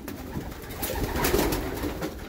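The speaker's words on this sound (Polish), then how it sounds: "Piękne są te gołębie" Soft pigeon cooing murmurs through a noisy, busy space, with low throaty calls rising and falling over steady background rustle.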